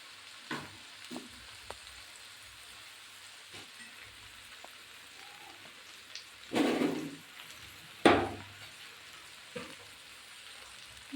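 Ragi vermicelli frying in a pan, with a soft steady sizzle under a few loud stirring scrapes and clatters, two of them standing out near the end; no talking.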